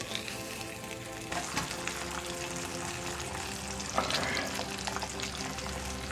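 Bacon fries in a pan over low heat with a dense, steady sizzle, close and continuous, with occasional louder crackles and a brief stirring scrape.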